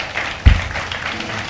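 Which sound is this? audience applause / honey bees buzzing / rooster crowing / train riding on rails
audience applause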